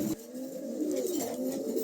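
Pigeons coo softly and continuously up close, a low rolling warble repeating with little else around.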